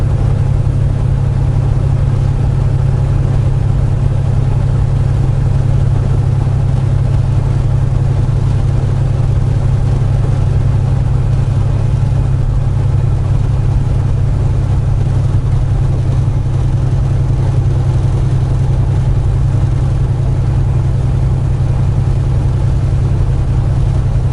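A semi truck's engine drones steadily and loudly from inside the cab as the driver gears down on the interstate, a constant low hum with no voices over it.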